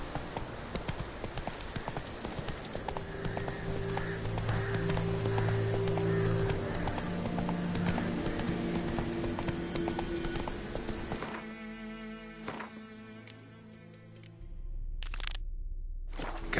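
Roach, the horse in The Witcher 3, gallops in a rapid, steady clip-clop of hooves over a game soundtrack, the hoofbeats continuing as the music fades near the end.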